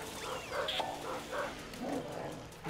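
A dog barks in the Luigi's Mansion video game on GameCube/3DS, giving several short tonal yelps over a steady game soundtrack drone, moderately loud and with no talk.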